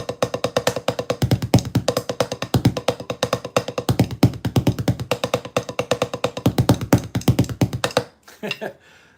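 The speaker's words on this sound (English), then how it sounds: "If I use my my little stool here and my drum to give you some different sounds" Drumsticks rattle out fast triplet patterns across a stool and a drum, a dense, even stream of sharp close strokes with accents recurring in a steady cycle, ending suddenly with a few scattered taps.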